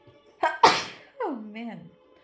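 One loud sneeze with a sharp breathy burst, followed right after by a drawn-out falling vocal groan or sigh, indoors and close to the microphone.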